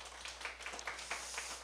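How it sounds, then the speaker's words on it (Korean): Scattered clapping from a small audience at a morning business seminar, a brief patter of individual claps heard at a modest level without any talking. "우리 안은정 사장님 다시 한번 꼭 실버 가시라고 박수 부탁드리겠습니다"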